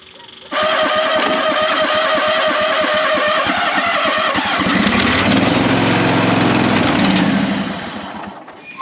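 A John Deere tractor's Yanmar three-cylinder diesel cranks and fires, running loud and near with a rough, rapid chatter that steadies and then dies down toward the end, with voices faintly underneath.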